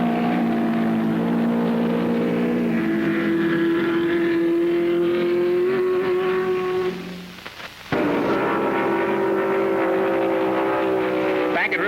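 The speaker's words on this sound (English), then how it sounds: "this National Championship Indianapolis car race" Open-wheel race cars scream past during the 1967 Rex Mays 300 National Championship Indianapolis car race, engines droning loud and sustained with a brief dip, as a commentator talks over them.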